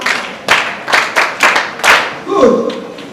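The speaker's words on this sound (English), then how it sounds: "Clap for her." Students in a secondary school classroom clap for a classmate in a few loud, close bursts, roughly twice per second, before a voice starts speaking near the end.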